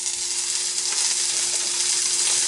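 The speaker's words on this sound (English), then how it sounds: "So you are going to hear the sizzle." Chunks of beef for pepper steak sizzle steadily in a smoking-hot pan, a loud, continuous bright hiss of frying with no pauses.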